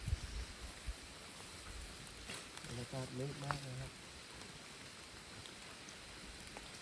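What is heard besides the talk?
rain falling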